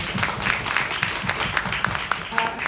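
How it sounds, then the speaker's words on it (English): Audience applause for female firefighters at a gathering of New York City officials and union members, a steady spatter of clapping from a crowd, moderately loud, with a voice speaking over it. "a round of applause for our female firefighters"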